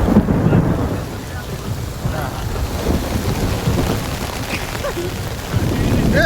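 Heavy rain pours steadily over damaged crop fields, with deep thunder rumbling throughout, loud and close.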